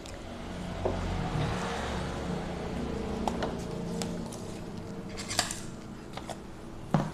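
Brown iodine wound antiseptic being stirred into water, giving light clinking taps of a spoon against a glass, scattered and sparse over a faint background hum, with no talking.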